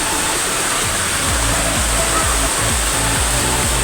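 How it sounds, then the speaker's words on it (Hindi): Heavy rain pours down in Karachi as a dense, loud, continuous wash of noise, with a steady low rumble beneath it and no break through the whole stretch. "बहुत तेज़ बारिश हो रही है"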